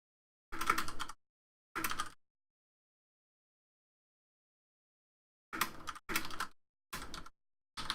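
Short bursts of computer keyboard typing, close and fairly quiet, in separate clusters with long silent gaps between them.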